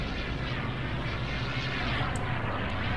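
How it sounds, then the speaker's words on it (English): An airplane climbs in the video game Garry's Mod, producing a loud, steady, broadband engine roar that fills the whole moment without letting up. "And then the whole plane flew up."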